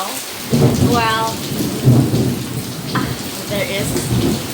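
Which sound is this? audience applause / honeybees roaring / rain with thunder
rain with thunder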